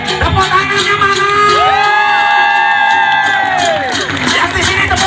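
Festival crowd at an Ogoh-Ogoh parade welcoming Nyepi in North Raman, Lampung, cheering and whooping in a loud, sustained roar, with overlapping shouted voices rising and falling.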